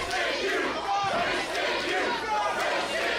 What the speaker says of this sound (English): we actually do have a little bit of a Wasted Youth chant